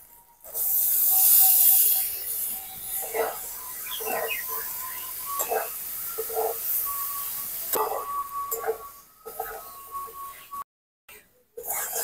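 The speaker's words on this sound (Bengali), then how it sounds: "এখন এই যে সিদ্ধ করা মোচা আর ছোলা ছিল সেটা দিয়ে দেবো" Boiled banana flower and chickpeas tipped into a hot pan of spiced rice and potato for a Bengali vegetarian mochar ghonto, giving a loud sizzle and spray-like hiss at the start, then scattered clinks and stirring scrapes that fade toward the end.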